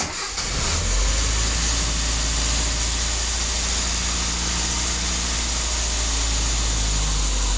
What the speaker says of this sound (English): Now you'll see that it idles high, and then it'll kind of level out.